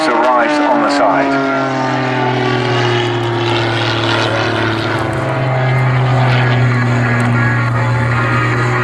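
Pitts Special aerobatic biplane flying overhead, a loud continuous propeller engine drone that shifts in pitch as the aircraft passes, with a commentator's voice talking over it at an air display.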